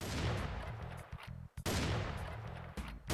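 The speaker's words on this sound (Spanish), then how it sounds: "La escopeta." A shotgun fires twice in Serious Doom, each loud blast followed by a short mechanical pump-like clatter, heard alone with no talking.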